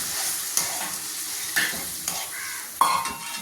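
Strained tamarind water poured into a pan of dates for a banana and date pickle makes a hissing sizzle, with three or four distinct stirring scrapes close by, and no talk.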